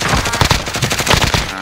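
Rapid gunfire in a survival video game, a quick burst of sharp repeated shots hitting the player, loud and close.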